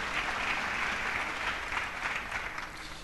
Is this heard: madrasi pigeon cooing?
no